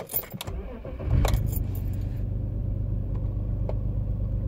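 A BMW E46, just repaired, starts up with a short crank that catches into a steady idle. The engine is close, with a faint jingle of keys at the start and a low, even rumble after it fires.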